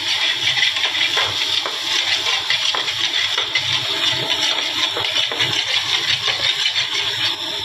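A steady rush of water pours continuously into a cooking pot, loud and close, with no speech over it.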